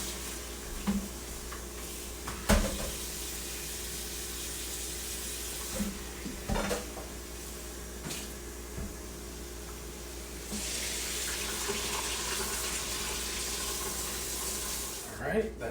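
Cold water from a tap runs steadily over fish in the background with occasional clinks and knocks, growing louder and hissier as the flow increases toward the end.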